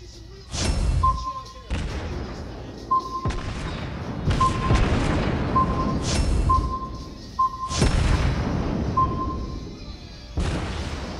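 Torpedo and gunfire explosions in a naval battle video game: a series of heavy booming blasts with rumbling tails, several sharp impacts spaced a second or two apart, loud and close, with a faint repeating beep between them.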